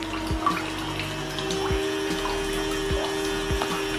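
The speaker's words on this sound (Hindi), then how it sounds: "तो यहाँ पर आपको थोड़ा थोड़ा वाटर पंप का साउंड सुनाई दे रहा होगा" Small water pump running inside a homemade air cooler, a faint steady hum under trickling water, with soft periodic low thumps throughout.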